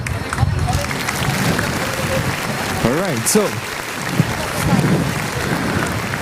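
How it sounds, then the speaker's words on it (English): Outdoor audience applause at a tree planting event, a steady wash of clapping and crowd murmur with someone speaking over it briefly partway through. "give yourselves a big round of applause"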